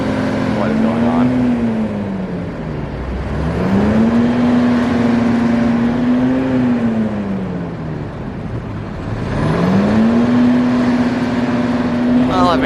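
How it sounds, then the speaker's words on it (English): A bus engine revs repeatedly at night in Taiwan, its pitch rising and falling in long swells, loud and close with a rough idle rumble between revs. "I don't know what the dude's doing, revving up his bus like that"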